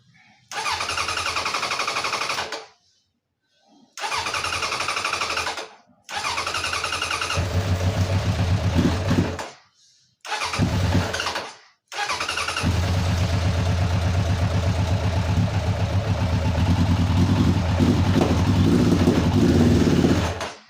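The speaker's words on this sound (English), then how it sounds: "See, we still have a backfire." An engine with a backfire problem is repeatedly cranked and started, with several short bursts of loud running separated by silences, then catches and runs steadily, rumbling and revving close by for the last nine seconds.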